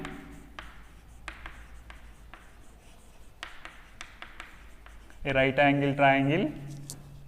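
Chalk or marker scratching across a board during a trigonometry lesson, short taps and strokes in an irregular rhythm, while a voice speaks throughout.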